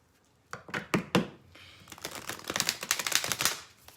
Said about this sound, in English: So let's shuffle this deck.